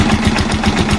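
A trike's engine idles steadily after an oil change with Shell Advance oil, a close, even, low throbbing pulse with a smooth rhythm and no misfires.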